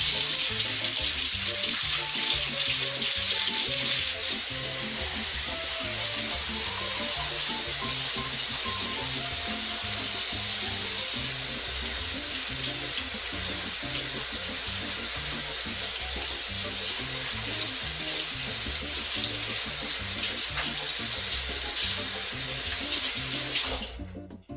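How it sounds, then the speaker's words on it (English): Running tap water pours steadily into a sink for a long stretch while hands rub and splash under the flow, ending when the water shuts off. "Let me wash my hands."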